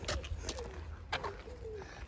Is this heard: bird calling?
yes